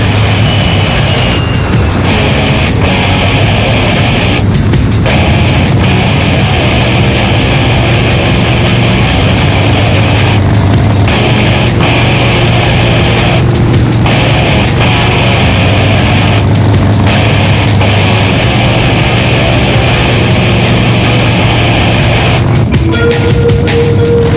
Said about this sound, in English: Bike's riding pretty good.